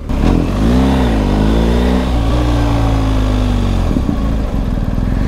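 A BMW GS 1250 motorcycle engine revs up loud and close, its pitch climbing sharply before holding a steady, throaty drone, then dipping briefly near the end.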